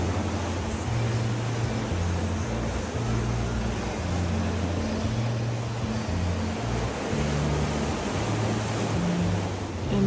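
Ocean waves beside a beachfront restaurant in Curaçao, a continuous broad wash of surf with a low rumbling undertone that holds steady and loud throughout.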